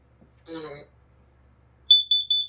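A Kidde KN-COSM-IBCA combination smoke and carbon monoxide alarm plays a brief spoken announcement, then a pause, then loud, shrill electronic beeps in a fast pulsing run of about three to four tones.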